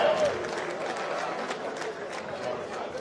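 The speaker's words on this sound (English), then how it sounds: "Can we give him a huge hand of applause, please?" An event audience in London claps and murmurs steadily to welcome a governor, a dense, fairly faint wash of applause with a voice faintly underneath.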